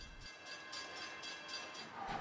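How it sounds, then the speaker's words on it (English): Fillmore & Western Christmas train near Santa Paula, a steady rail rumble with faint periodic chugging pulses and a soft whistle-like tone, moderately distant and quiet with no talking. "The train made its way back into Santa Paula, chugging slowly"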